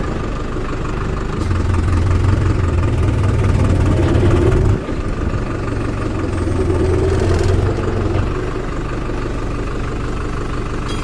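A Farmtrac 6055 WorldMaxx 4WD tractor engine runs close by at a steady diesel throb, rising briefly in revs before settling back to a lower idle.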